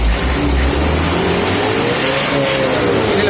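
A 300 diesel engine revving hard up close, a loud continuous roar whose pitch climbs and wavers as the throttle is pushed, with no pauses.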